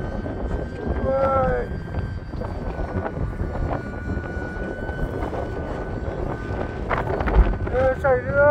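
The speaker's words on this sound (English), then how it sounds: "Oh, that wind's strong." Strong wind buffeting the microphone at an outdoor flying field, with heavy low rumble and gusts, while a small electric model Pitts S1S aerobatic plane whines with rising and falling pitch as it passes.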